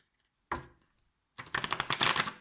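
Tarot cards are shuffled by hand: a single soft slap, a pause, then a quick flurry of crisp riffling clicks at close range, fairly quiet overall.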